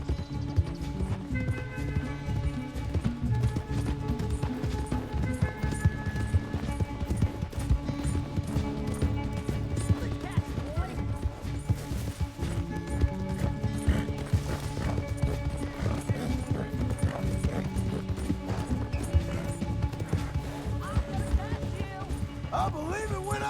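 Horse hooves clip-clopping at a gallop in the video game Red Dead Redemption 2, a steady rapid rhythm running throughout under game music and occasional voices.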